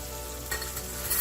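Sausage browning in a pan for mac and cheese with baby portobello mushrooms, stirred constantly: a steady close sizzle of frying with a couple of brief scraping stir sounds, no talking.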